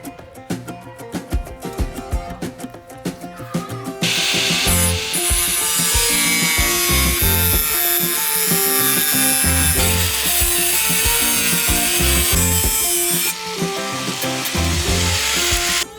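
Power tool cutting and sanding a metal patch panel for a van's side, a loud continuous grinding roar that starts after a few seconds of lighter rasping and runs steadily to the end.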